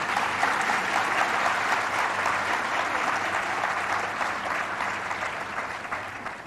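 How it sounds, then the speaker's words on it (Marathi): An audience at a religious discourse on the Bhagavata applauds with dense, continuous clapping that holds steady for several seconds before easing slightly. "खरे या टाळ्या इंदूरला ऐकू जातील एवढ्या वाजल्या पाहिजे."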